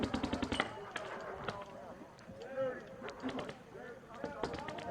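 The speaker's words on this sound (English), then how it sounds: "who the hell's shooting paint up here on the second floor in the first place" Paintball guns firing during a team game in a multi-storey arena, rapid bursts of cracking shots near and far, with people calling out and talking throughout.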